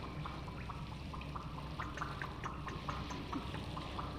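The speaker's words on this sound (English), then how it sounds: "Interesting, they pop when they hit the water." Small creatures in the game Hollow Knight pop as they drop into water, a string of short, light popping plinks scattered over a steady watery ambience.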